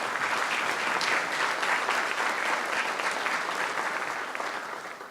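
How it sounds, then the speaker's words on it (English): Sustained audience applause at a city State of the City event fills the room, steady dense clapping that tapers slightly toward the end. "You deserve a round of applause."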